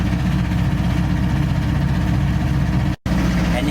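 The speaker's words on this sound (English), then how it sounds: "And here you can hear the engine running." A boat engine runs steadily, a loud close low throbbing drone with a constant rhythm, briefly cutting out for a moment before continuing.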